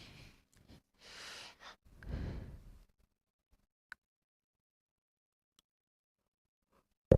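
A person yawns once, close to the microphone, with a long breathy drawn-out exhale lasting a couple of seconds, followed by near silence with a few faint clicks.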